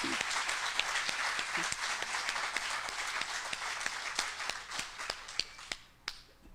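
An audience claps steadily at a service dog class graduation, a dense patter of hands with sharper individual claps standing out, fairly distant and tapering off near the end.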